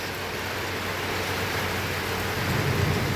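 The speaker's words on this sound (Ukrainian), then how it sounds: "Бачите, ще й гримить. Отак у нас. Воно лється." Heavy rain pours down steadily in a continuous dense hiss during a summer downpour, with low thunder rumbling underneath and swelling slightly louder near the end.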